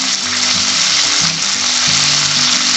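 Roughly chopped onion and two roughly chopped tomatoes fry in a pan, giving a loud, steady, continuous sizzle with a faint low tonal hum underneath and no voices.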